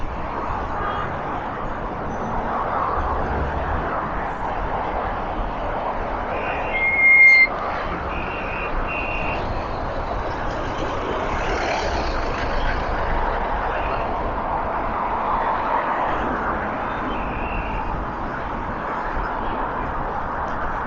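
Steady, moderate road noise from traffic on a Shanghai city road, heard from a bicycle riding along with the flow of cars; a continuous low rumble and hiss with no talking.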